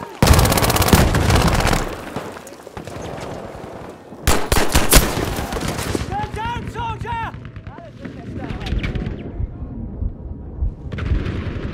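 Dense bursts of automatic gunfire and loud explosions in Battlefield V multiplayer, with rapid rattling volleys, sharp blasts and some chirping effects, while a voice talks over the combat.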